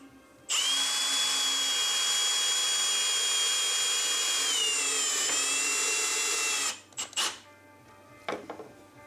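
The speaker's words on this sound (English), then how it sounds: "Once you have your marks in place, just drill your holes." A power drill whines loudly for several seconds with a steady high pitch that dips slightly under load while drilling screw holes in a ski for an ice fishing sled, then stops, followed by a couple of short bursts.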